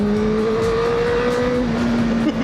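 A 2008 Honda Fireblade motorcycle engine is heard from the rider's seat, droning loud and steady with a sustained tone that slowly shifts pitch, with no talking.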